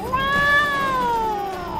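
A cartoon cat stuck up a tree gives a single drawn-out meow, a clear, tonal wail that rises slightly and then slowly falls, close and fairly loud with no talking.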